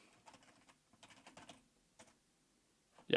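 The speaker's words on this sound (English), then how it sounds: "we'll type in North America" Quiet, rapid typing on a computer keyboard in short bursts of clicking keystrokes, ending with a louder key thump, with no voices.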